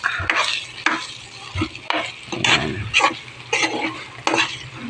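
Fermented rice with shrimp paste fries in oil and is stirred, with repeated scraping strokes against the pan over a steady sizzle, close and fairly loud, and no talking.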